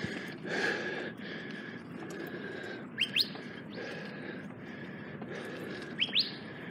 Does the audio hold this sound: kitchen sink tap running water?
no